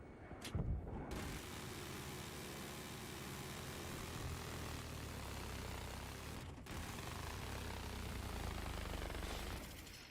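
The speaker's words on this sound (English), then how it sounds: "Enemy helicopter spotted." A continuous low rumbling engine drone with broadband noise, steady and fairly loud, like a helicopter hovering nearby, from an enemy helicopter in Battlefield 3.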